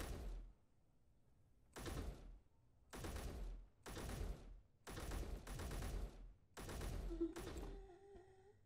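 Gunfire in the space sandbox game Space Engineers: loud bursts of rapid shots in several separate volleys, each lasting roughly half a second to a second, close and sharp, ending with a fading electronic tone.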